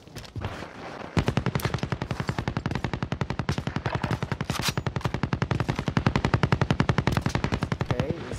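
Rapid automatic gunfire in an online shooter video game, a long continuous burst of evenly spaced loud shots following a short quieter lead-in.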